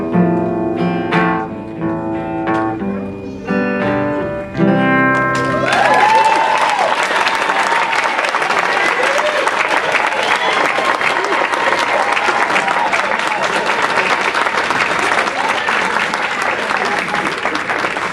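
At a graduation luncheon, a sung performance ends with a sustained final note, then the audience breaks into loud, steady applause that carries on evenly for about twelve seconds with some cheering mixed in.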